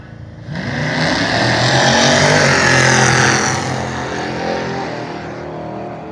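A drag racing car, one of the Radford School of Driving cars, roars down the strip on the last day of racing, its loud engine note swelling as it accelerates hard, then easing slightly while staying strong to the end.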